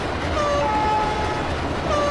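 An Amtrak train pulls into a station, sounding steady sustained horn tones over a continuous rumbling rail noise that stays loud throughout.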